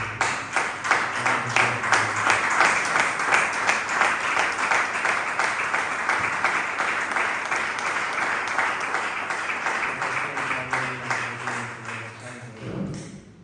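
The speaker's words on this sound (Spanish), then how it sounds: "Dale un fuerte aplauso a Cristo." A church congregation claps together in strong, steady rhythmic applause for about thirteen seconds. The claps are loud, dense and close, tapering off at the end as a voice begins.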